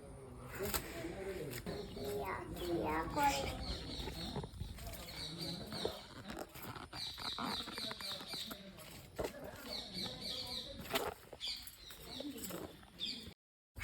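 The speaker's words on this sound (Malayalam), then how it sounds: "ഇത് ഒരു കരിയിലെ കുരുവിയാണ്" Jungle babblers chatter and chirp in busy, harsh bursts, several calls overlapping nearby with brief lulls between flurries.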